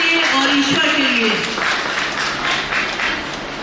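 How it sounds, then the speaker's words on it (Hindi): An audience at a foundation's introductory event starts clapping while a voice is still talking over the opening, and the applause then carries on by itself, moderately loud and close. "तो एक बार जोरदार तालियां हो जाए आपके लिए"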